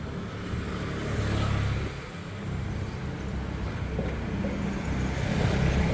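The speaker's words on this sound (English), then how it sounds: "this traffic is heading around the corner" Steady street traffic on Sukhumvit Soi 35 in Bangkok: cars and larger vehicles rumble past continuously at moderate distance, with a brief swell as one engine revs nearby, and no talking.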